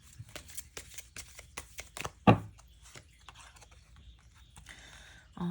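Tarot cards handled during a reading: a series of light, crisp card flicks and shuffles, one sharper slap as a card is laid down, then softer rustling, close and fairly quiet with no talk.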